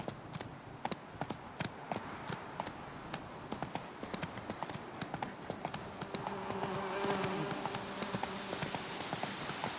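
Roach, a horse in The Witcher 3, running with a brisk, evenly spaced clip-clop of hooves that is close and distinct, as a rumbling game ambience swells toward the end.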